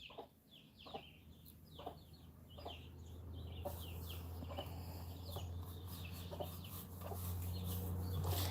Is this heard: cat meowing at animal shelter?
no